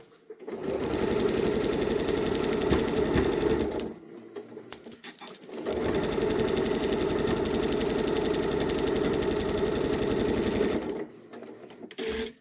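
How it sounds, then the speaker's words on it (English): A sewing machine fitted with a denim needle stitches in two long, steady runs of rapid close-up whirring and clatter, separated by a brief pause, then stops. "I'm using a denim needle on my machine."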